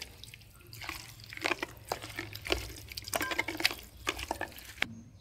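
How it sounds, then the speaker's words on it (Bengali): Water poured into a pan of marinated prawns in a home kitchen, heard as soft splashes and trickling bursts over about five seconds, fairly close and gentle, with brief pauses between pours. "এবারে একটু জল দিয়ে দিলাম সামান্য"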